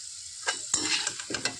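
Raw plantain papad frying in hot oil, a close, steady sizzle broken by a few louder crackling bursts, with no voices.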